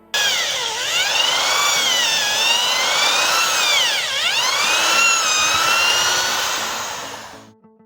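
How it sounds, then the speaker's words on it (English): A power drill with a wood drill bit bores into a tree stump, giving a loud, continuous high whine that dips and recovers in pitch as the bit loads and frees, close by, ending with a fade. "Once we have drilled the holes"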